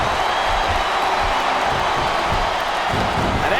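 Wrestling arena crowd in the video game SmackDown vs RAW 2007, a steady loud roar of massed voices and cheering that fills the whole stretch without a break.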